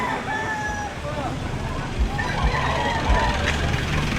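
An eight-month-old gamecock at a poultry market in Batangas crows twice, mid-distance, amid a busy background of people talking and other fowl clucking.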